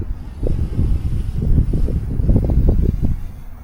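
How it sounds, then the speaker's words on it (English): Strong outdoor wind buffets the microphone during a hand launch of a model plane, a steady low rumble with surging gusts throughout and no voices. "The wind is kicking."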